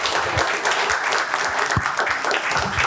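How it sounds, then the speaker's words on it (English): A room of attendees at a policy panel on broadband investment breaks into a brief, full round of applause for the panelists, close and even throughout the short burst. "Let's give a round of applause for our panelists."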